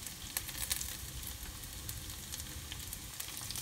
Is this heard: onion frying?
yes